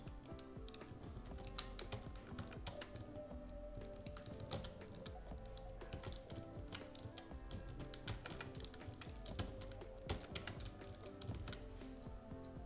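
Rapid, continuous keystrokes on a computer keyboard while code is typed into an online practice editor, close and steady clicking throughout with no talking.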